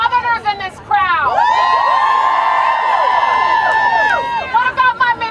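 A rally crowd at an abortion-rights protest cheers and whoops loudly and continuously, with high shouts and whistles rising over a dense roar that swells and holds for several seconds before easing.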